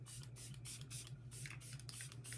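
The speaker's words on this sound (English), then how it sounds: "I'm gonna spray. I've been using this Super Setter, the Professional" Benefit Super Setter setting spray is misted in a series of short, rapid hissing pumps in a regular rhythm, faint but close, with a low steady hum underneath.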